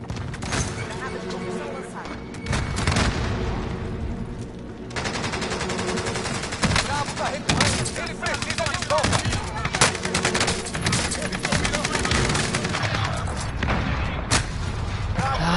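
Rapid automatic gunfire and scattered shots from the video game Call of Duty Warzone, Season 6, fill the clip in loud dense bursts, with a player talking over the action.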